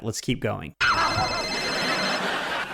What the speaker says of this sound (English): Yes! That was a phone.